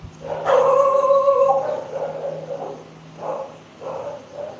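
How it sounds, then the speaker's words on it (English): Nearby dogs give a long, drawn-out howling cry, followed by several shorter yelping barks spaced out over a few seconds. "What are they barking at? My dogs are going through a very unusual"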